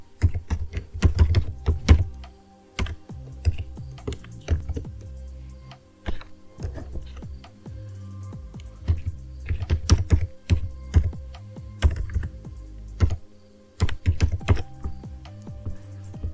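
Close, uneven bursts of typing on a computer keyboard while filling in fields of a web form, with clusters of rapid keystrokes broken by short pauses and no voices.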